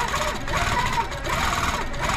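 A quilting sewing machine stitches a test run, giving a steady close-up mechanical whir with a fast rhythmic clatter and a brief dip near the middle.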